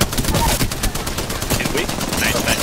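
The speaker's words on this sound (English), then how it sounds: "Listen up, I'm getting shot at!" Rapid bursts of video game gunfire crackle continuously, dense and loud like automatic weapons, while players talk excitedly over the shooting.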